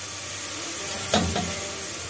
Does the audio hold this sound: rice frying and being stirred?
yes